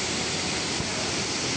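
Waterfall on a hike from Kathmandu to Chisapani in Sindhupalchowk pours with a constant, dense roar of falling water, close and unbroken, with no talk over it.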